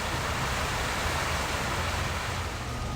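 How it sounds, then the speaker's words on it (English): Continuous broadband rush of water splashing in a resort fountain, steady and fairly loud with no pauses or voices. "Just listening to the water is super relaxing."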